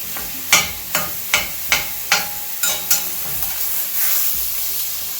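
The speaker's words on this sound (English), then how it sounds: "just keep moving this around until it browns for a few minutes" Ground turkey frying and browning in a pan for a crustless turkey pot pie, with a steady sizzle broken by about seven sharp scraping stirs early on, then a continuous hiss.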